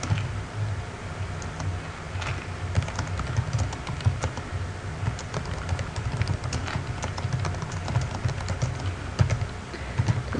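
Steady, rapid keystrokes on a computer keyboard, with dense irregular clicks running without a break and close to the mic, and no voices.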